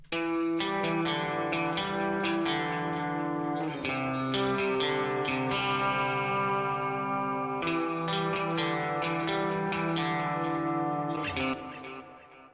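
Electric guitars run direct through an Amplitube Vox AC30 amp simulation play a driven, chordal rock part with rhythmic picked attacks and sustained notes, dense and continuous, with no talking over it.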